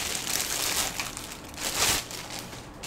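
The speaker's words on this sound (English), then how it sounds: "Let's unwrap it up." Plastic packaging crinkles loudly and close up as a Gioteck VX-1 PS3 controller is unwrapped, a continuous rustling crunch with a couple of louder swells.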